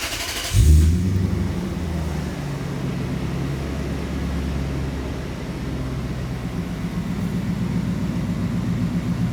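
A Lexus LS400 V8 with some mufflers removed cranks and fires with a sharp burst, then settles into a steady, deep, close idle rumble.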